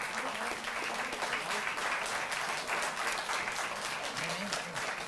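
Sustained audience applause at a Delhi government ceremony honouring athletes, a steady wash of many hands clapping throughout, fairly distant and moderate in level, with a voice faintly audible underneath.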